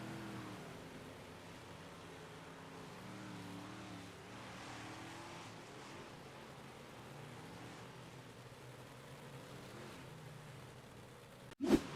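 Big-block modified dirt track race cars slowing in a pack, a faint, distant, wavering engine drone that stays steady for the whole stretch before a sudden sharp knock at the very end.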